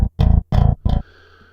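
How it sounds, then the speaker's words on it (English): Virtual bass guitar from the EuroBass III library plays three gritty, distorted notes and then a fourth that slides away, all close and loud, followed by a faint tail with no talking. "So if we go to the MIDI here"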